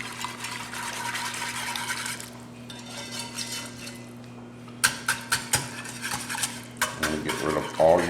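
Gravy stirred briskly in a pan to work out lumps, with onions dissolved in it. A soft liquid swirl gives way to quick, close clinks of a utensil scraping and tapping the pan, with no voices.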